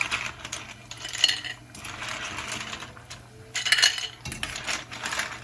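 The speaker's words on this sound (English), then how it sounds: "we are going to take these clams out of here temporarily. We'll put them in this bowl." Cooked clams clink and rattle as they are scooped from a pot into a bowl, with bursts of shell-on-metal and ceramic clatter between quieter pauses, close by with no talk.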